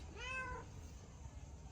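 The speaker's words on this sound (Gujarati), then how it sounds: "એ જો કાળી બિલાડી ખરેખર" A black cat gives one short, quiet meow close by, followed by a faint low hum of background noise.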